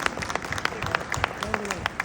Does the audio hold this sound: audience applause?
yes